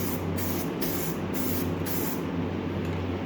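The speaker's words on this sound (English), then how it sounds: "So let's start spraying. See how this goes. Just a mist on there" Paint spray gun misting onto the door jambs of a 1978 Chevrolet Monte Carlo, a steady close hiss broken by several short bursts and pauses, with a low background hum underneath and no talking.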